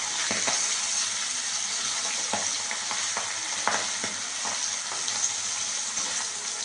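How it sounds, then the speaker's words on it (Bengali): Hilsa fish fries in a pan with a steady, close sizzle and crackle that runs the whole time, broken by occasional stirring and scraping sounds. "এই যে ভাজা হচ্ছে"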